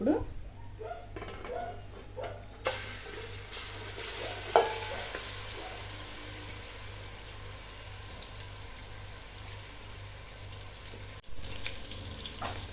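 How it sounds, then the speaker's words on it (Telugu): Marinated chicken fries in hot oil with a steady hiss close by after a few early clatters and bumps. The sizzle runs evenly and moderately loud, with no talking. "ఇప్పుడు ఆయిల్ అంతా హీట్ ఎక్కాక ఇందాక కలిపేసుకున్న చికెన్ అంతా దీంట్లో వేసేసుకుందాం అండి"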